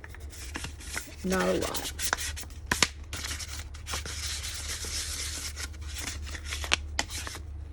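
Hand sanding of a cured glitter epoxy coat on a tumbler: a short, soft scratchy rub stands out briefly early on, with faint scuffs and handling noises over a steady low hum.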